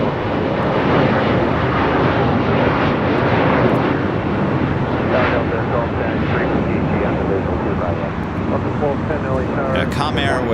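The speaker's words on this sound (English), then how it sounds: "This is Delta Airlines A350. Arriving on 25 left." A Delta Air Lines Airbus A350 arriving from Sydney comes in to land on runway 25 left at LAX, producing a loud, continuous jet roar that stays close and heavy before easing slightly near the end.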